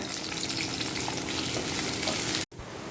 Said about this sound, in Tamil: சின்ன வெங்காயம், பூண்டு, கருவேப்பிலை, மல்லித்தழை எல்லாம் ஆட் பண்ணி நல்லா வதக்கி விட்டுக்கோங்க.